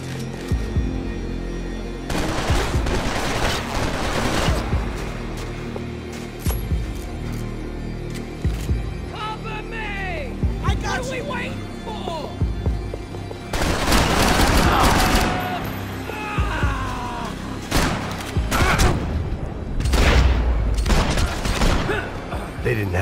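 Gunfire from the video game Max Payne 3 in a sniper round, dense bursts of shots and fusillades that come and go across the scene, with game voices shouting between volleys.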